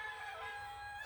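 A backyard chicken lets out a brief, faint crowing cluck, a single short call with no voices around it.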